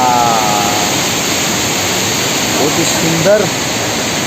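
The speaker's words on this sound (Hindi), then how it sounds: "इधर में छोटा छोटा वाटरफॉल है इस तरह से" Small waterfall at the Langvoku picnic spot in Karbi Anglong, Assam, giving a steady, close rushing of falling water that fills the whole clip, with a brief spoken voice near the end.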